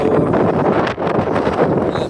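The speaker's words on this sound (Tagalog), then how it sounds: "Kahit di mangulap, ang lakas ng hangin." Strong gusting wind during a tornado warning buffets the microphone with a loud, continuous roar and rumble that surges and dips briefly before resuming.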